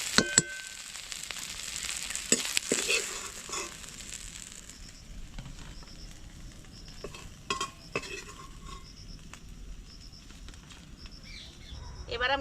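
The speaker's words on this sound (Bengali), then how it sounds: "এবার ওই তেলের মধ্যেই আমি চিংড়ি মাছগুলোও ভেজে নেব।" Shrimp fry in oil with a little turmeric powder, giving a soft, fairly quiet sizzle with scattered clinks and scrapes of a utensil against the pan.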